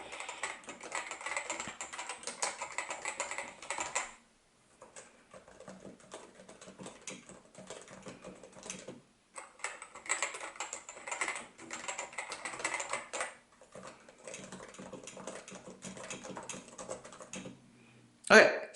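Someone types on a Topre keyboard with ABS keycaps, a steady close patter of soft, muted keystrokes in several runs broken by brief pauses.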